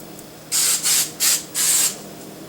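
Hairspray hisses from an aerosol can in four quick bursts, the last one longest, close and loud against a quiet room.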